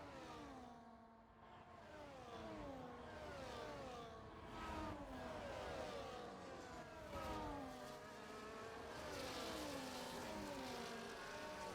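Sim race cars in an esports broadcast wail through rising and falling gear changes as they accelerate out of a chicane, several engines layered at steady moderate loudness with no speech over them.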